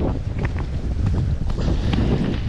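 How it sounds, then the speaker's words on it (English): Steady wind buffeting the microphone on a fishing boat on a blustery day, a constant loud low roar with gusty rumble throughout and no talking. "So it's a pretty windy day today"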